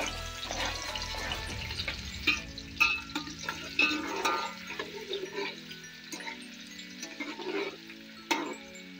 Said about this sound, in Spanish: Después de un minuto, poner la cebolla en el mismo aceite.